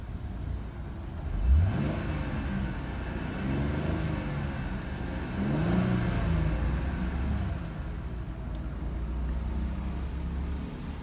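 A 2016 Cadillac CTS engine idles steadily, with a brief rev near the start and a second swell midway before it settles back to an even, moderately loud hum with no talking.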